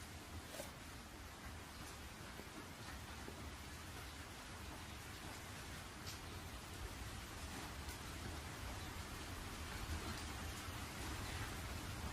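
Steady, dense rain falls alone for the whole stretch in an animated film scene, a constant broadband wash with faint rumbles that could be distant thunder and no voices.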